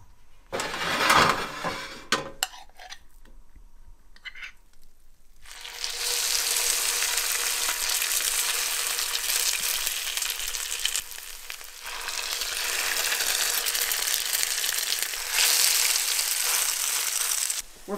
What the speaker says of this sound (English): We're frying these latkes up in lard, a nice layer of that.